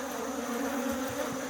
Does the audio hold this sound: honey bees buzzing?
yes